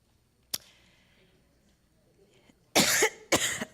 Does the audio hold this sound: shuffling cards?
no